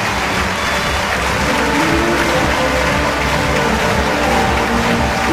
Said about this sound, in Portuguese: O público a aplaudir.